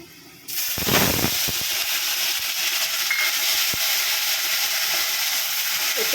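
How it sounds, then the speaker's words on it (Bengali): Onion, garlic, green chili and ginger start frying in a hot pan for an egg bora vegetable curry, a loud steady sizzle that bursts in and holds for several seconds, with a few stirring clinks. "ভালো করে ভেজে নেবে মশলাগুলোকে।"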